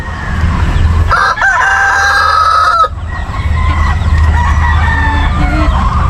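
A rooster crows loudly in a long rising call amid steady clucking from several chickens, with a constant low rumble underneath throughout.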